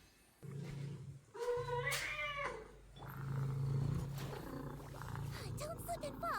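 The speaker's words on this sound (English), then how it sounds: "And Chico purring in the background." A cat purrs in the background during a gaming stream, a low, continuous rumbling drone that runs under a person talking over it.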